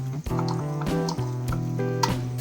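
Raw chicken pieces are squeezed and mixed by hand with lemon juice and spices for green chicken chilli, making close, wet squelches and sloshes in quick, uneven bursts.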